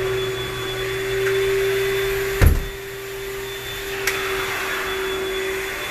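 A corded battery-powered cleaning machine with an upgraded pump runs with a steady, fairly loud whirring hum and a thin whine, broken by one sharp thump midway and a fainter knock later.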